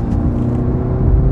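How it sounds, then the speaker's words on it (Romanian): Inside a BMW 330i G20 in comfort mode, the real engine gives a short, steady low hum with a constant pitch. "ce auziți acum este sunetul motorului."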